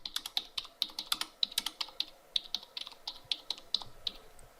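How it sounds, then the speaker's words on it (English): Brisk typing on a computer keyboard as a book title is entered into a library search box, with quick irregular clicky keystrokes close up and no voices. "Let's type To Kill a Mockingbird into the Search at UW box."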